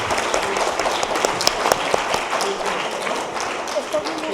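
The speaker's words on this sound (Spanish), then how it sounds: "Primero un aplauso para nuestros dos." Audience applause at a literary conference honoring Natalia Ocampo de Sánchez, a steady wash of many hands clapping in a hall, sustained and fairly even throughout.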